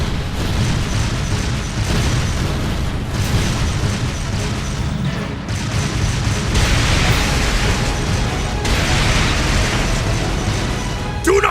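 Artillery barrage in the battle game Trails of Cold Steel 2: dense, continuous booming and bursting explosions with rumbling debris, loud and sustained with swells every few seconds.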